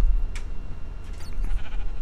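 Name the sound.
sheep bleating in the video game Minecraft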